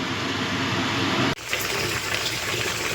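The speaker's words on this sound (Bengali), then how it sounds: "ঝোলটা ফুটুক, তারপর ঢাকা দিয়ে দেবো।" Vegetable curry broth coming to a boil in a pot, a dense continuous bubbling roar that drops out for an instant and resumes, close and steady with no speech.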